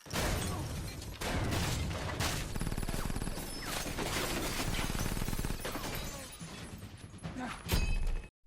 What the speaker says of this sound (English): he was met with a barrage of shotgun blasts as they engaged in a fierce shootout within the house